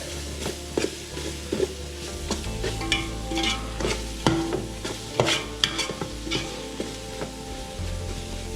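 Ginger garlic paste sautéing in a pan for Sankarankovil chicken biryani: a steady close sizzle runs throughout, broken by repeated scraping stirs and clinks of a spoon against the metal.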